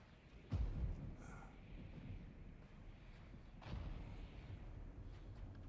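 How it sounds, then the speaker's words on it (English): Thunder in God of War Ragnarok, with two deep booming cracks a few seconds apart, each trailing into a low, faint rumble. "Just a little thunder."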